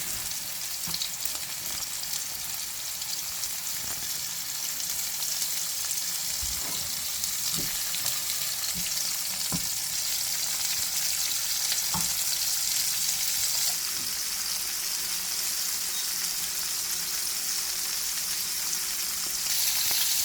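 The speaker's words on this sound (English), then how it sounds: "I'm gonna fry them on each side about 1 to 2 minutes" Butter garlic shrimp fry in a pan, a steady dense sizzle running throughout with occasional soft clinks and stirring taps, close and continuous with no talking.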